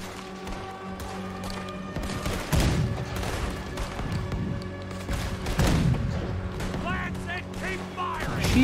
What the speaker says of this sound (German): ich habe jetzt das Vergnügen mit der Kanone, Busch.